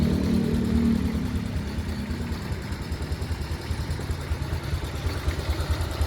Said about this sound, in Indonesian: jadi mesinnya getar, karena kalau untuk R27 pakainya engine mounting, tidak pakai tusukan penahan mesin.